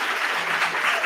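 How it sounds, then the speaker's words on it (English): A brief burst of dense clapping from an audience at a Toastmasters event, loud and steady throughout. "Just give you guys a round of applause just for being here."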